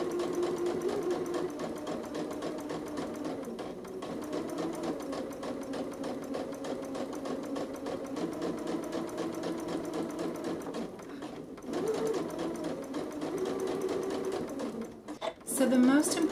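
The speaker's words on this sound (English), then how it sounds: "just guide it as you stitch" Sewing machine stitching piping into a fabric seam, a steady close mechanical whir and rattle running throughout, with someone talking over it.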